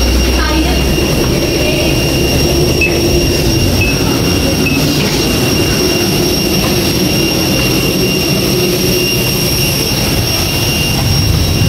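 Passenger jet engine on a Hyderabad to Goa flight, a loud, unbroken broadband roar that stays constant and close throughout.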